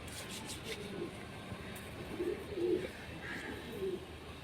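Rampuri pigeons coo softly in a few low, throaty phrases over steady background noise, with a faint aircraft hum in the distance and no talk.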